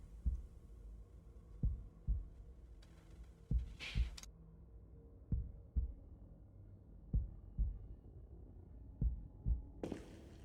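Heartbeat sound effect in the video game Tsukihime, slow regular low thumps in pairs repeating across the whole stretch, fairly faint, with a short burst of hiss and sharp noise in the middle and another at the end.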